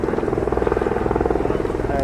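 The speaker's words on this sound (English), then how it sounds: "It's a Black Hawk." A Black Hawk helicopter flies in low with a steady, loud pulsing rotor thump throughout, with people talking over it.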